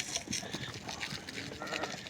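Sheep and goats bleat in a short burst of overlapping calls at moderate distance, with light rustling and no talk.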